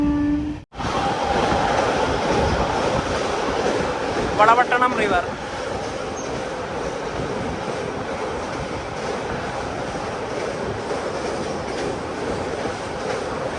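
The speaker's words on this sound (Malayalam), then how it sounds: "ട്രെയിൻ ഇതാ സ്പീഡ് എടുത്ത് തുടങ്ങിയിരിക്കുകയാണ്." The Kannur–KSR Bengaluru Express, running with LHB coaches, picks up speed near the Valapattanam river, its steady loud rumble and wheel noise heard from inside the train. A clattering burst stands out midway, and a voice speaks briefly near the start.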